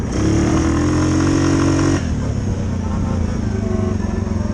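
An off-road vehicle engine with the differential locked, its rev limiter defeated, roars loud and steady at high revs, the pitch dropping slightly partway through, close up with no talk.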